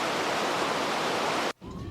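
Broadband rushing water churns steadily and loudly for about a second and a half, then cuts off abruptly to a quieter, hollow underwater-like tone.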